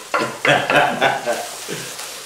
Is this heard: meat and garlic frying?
yes